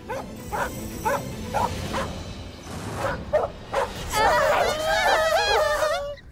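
Repeated sharp dog barks sound at a steady pace, then give way to a long, wavering whine or howl, with a murmur of voices in the background.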